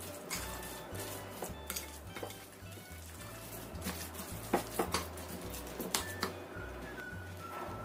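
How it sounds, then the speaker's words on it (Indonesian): Metal spoon scraping and clinking against a pan while an eggplant mixture is stirred after sesame oil is added, steady close scraping with a few sharper clanks, no talking. "Kita aduk lagi sampai tercampur rata."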